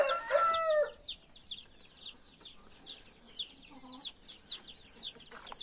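On a farm, a rooster crows once near the start, then hens keep up a run of soft, repeated clucks at close range, with a few quieter calls in between and no talking.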